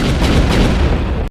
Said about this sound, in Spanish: Fuertes explosiones se escucharon por toda la manzana.